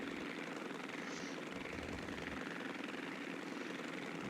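A simulated airplane engine drones steadily in Microsoft Flight Simulator X during a flight from Glacier Peak to Paine Field, a constant broadband hum filling the scene with no voices.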